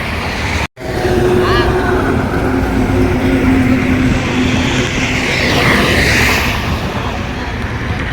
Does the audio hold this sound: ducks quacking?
no